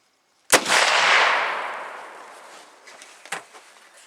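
Hunting rifle fired outdoors during hunting-season preparation: one sharp loud crack with a long echoing decay, then a fainter second report about three seconds later.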